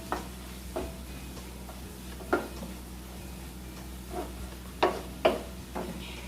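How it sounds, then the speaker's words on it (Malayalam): Ingredients for a pomfret roast being sautéed in a pan, with a steady low sizzle under sporadic scrapes and taps of a spoon, close and without talk. "ഇത് നന്നായിട്ട് വഴറ്റിയെടുക്കണം."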